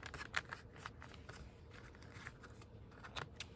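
Scissors snip and trim paper for a shabby chic junk journal cover, a quiet run of short crisp cuts with light paper rustling, close by and with no talking.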